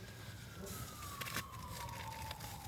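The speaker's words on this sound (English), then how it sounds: "let the siren go by" A siren slides steadily downward in pitch as an emergency vehicle passes by at a middle distance, continuous through the whole stretch over low traffic rumble.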